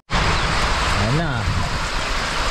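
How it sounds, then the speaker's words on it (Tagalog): Heavy tropical rain pours down in a loud, steady hiss that starts abruptly and holds throughout, with a voice briefly rising through it partway in. "Laki ulan mga kapahil."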